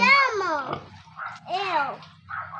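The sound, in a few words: pigs grunting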